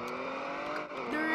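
Engine drone of a trash truck being driven in the Roblox ERLC game, a steady humming motor with slight revving, continuous and fairly close, with a voice faintly present underneath.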